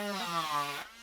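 A Dremel rotary tool grinds foam armor hip horns with a close, buzzing whine that wavers in pitch for under a second before dropping off.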